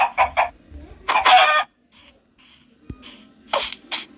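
A Minecraft chicken clucks in short, bright bursts, several quick calls in a row followed by a few more after a pause, loud and close with no talking over them.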